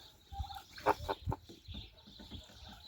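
A domestic goose in a farmyard shed gives a few soft honking calls and clucks, close but quiet, in short irregular bursts.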